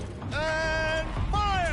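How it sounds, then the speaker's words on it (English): A tank turret rotates in a video game, a mechanical whining creak with a sustained tone that sweeps upward, then a second shorter rising whine, close and fairly loud. "Rotate turret!"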